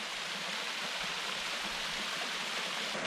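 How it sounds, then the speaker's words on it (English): Hot spring water pouring out of a mountainside beside a river in freezing weather, heard as a steady, soft, hissing rush of flowing water with no other sounds. "all this hot water that's coming out of the side of the mountain just comes right over here"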